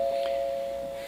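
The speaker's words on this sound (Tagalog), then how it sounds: "May doorbell sila." A house doorbell sounds once as a single sustained electronic tone, clear and fairly close, holding steady for about a second before fading.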